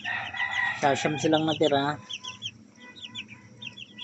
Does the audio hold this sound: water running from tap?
no